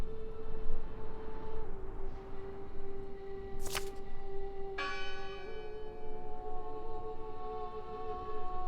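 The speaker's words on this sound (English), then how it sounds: "Listen! The bell! They're still in there! It must be her ringing the bell." A church bell rings in the horror video game Draugen, struck twice with clear metallic clangs that leave long humming overtones, heard at a distance over a low ambient drone, with no voices.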